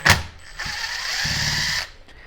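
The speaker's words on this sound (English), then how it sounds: "So we are getting a couple more screws out of the chuck here." Metal screws being worked loose from the chuck of a vintage Sears Craftsman heavy-duty drill, with a sharp clack at the start followed by a sustained ratcheting, grinding whir lasting over a second and a brief tick at the end, close by.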